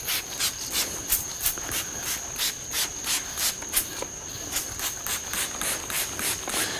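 A trigger spray bottle mists wheel cleaner onto a car's wheels, firing about a dozen quick, evenly spaced hissing pumps in a steady rhythm, close and fairly loud with no talk.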